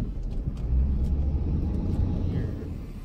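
A passing car rumbles low and steady outdoors on a street, swelling and then easing off as it moves by, loud and near with faint background noise.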